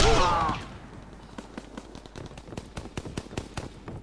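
Call of Duty WW2 gunfire crackles in a ragged string of close, sharp shots, fired at an irregular pace and following a loud burst at the start.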